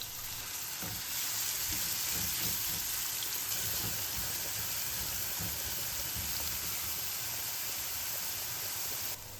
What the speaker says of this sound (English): In a pan, heat some oil over high heat. Add the grated onion and saute for a few minutes.